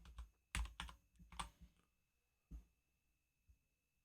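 Keys tap on a computer keyboard in a quick burst of clustered strokes, then slow to a few scattered presses, close and quiet in an otherwise silent room.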